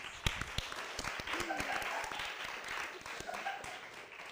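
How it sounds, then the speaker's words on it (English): A drag show audience applauds with scattered, crackling claps and some cheering, moderately distant and fairly quiet, lasting a few seconds. "Can we get a round of applause for all of our queens?"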